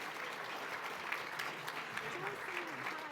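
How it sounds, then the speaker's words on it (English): Faint, steady audience clapping at a morning conference session, distant and even throughout, with a murmur of voices underneath. "Yes, please clap."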